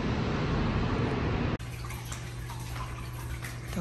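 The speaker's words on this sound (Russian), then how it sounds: "Такой здесь водопадик." A small indoor decorative waterfall in a penthouse splashes steadily, first a heavy rushing flow, then after an abrupt cut a lighter, continuous trickle with a faint hum beneath.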